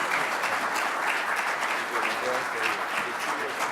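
Steady audience applause fills a room at a chamber of commerce event, a dense wash of many hands clapping at even loudness throughout with no pause.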